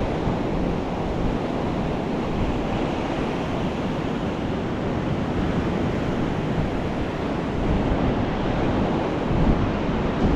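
Ocean waves washing ashore at high tide on a summer evening, a loud continuous broadband surf roar with steady wash and no talking throughout.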